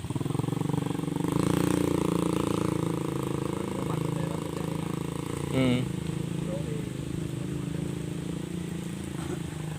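A motorized becak, a motorcycle rickshaw, hauls oil palm fruit during a rainy harvest on a plantation. Its engine drones steadily and fairly close throughout, with a brief louder rise near the middle.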